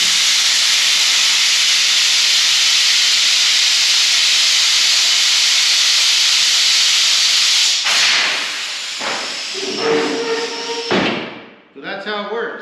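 An ATV lift table runs with a loud, steady hiss of air or hydraulic pressure for about eight seconds, then breaks into clanks, thumps and shifting mechanical tones before cutting off sharply near the end.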